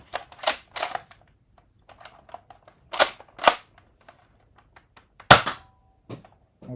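A handful of sharp snapping pops from a Nerf Elite 2.0 Eaglepoint foam dart blaster fired without its barrel extension, some in quick pairs, with faint clicks and handling noises between shots.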